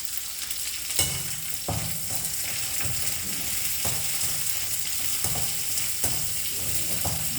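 Ginger and spices sauté in a pan for a coconut-milk biryani, a continuous close sizzle broken by regular scraping stirs about once a second, with no voices.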